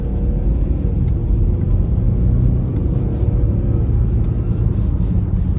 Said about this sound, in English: even if I take over manually now and go through the gears, drop it down to third, drop it down to second